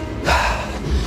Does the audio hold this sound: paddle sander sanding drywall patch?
no